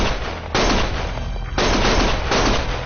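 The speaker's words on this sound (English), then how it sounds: "Stop shooting!" Gunfire in Lost Judgment, with three loud, dense bursts of sustained rapid shooting, each about a second long, separated by brief quieter gaps.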